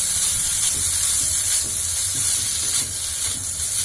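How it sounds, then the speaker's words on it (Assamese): Grated carrots fry in ghee with a steady, loud, close sizzle and hiss, while a spatula scrapes and stirs them in an even rhythm through the whole stretch. "পাঁচ মিনিট মান মই এইদৰে ঘিউখিনিৰ লগতে ধুনীয়াকে ভাজি থাকিম গাজৰখিনি"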